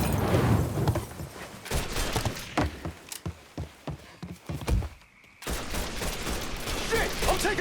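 Gunfire in Mafia 3 crackles as a rapid series of sharp shots. It pauses briefly, then resumes as a louder steady clatter of fire.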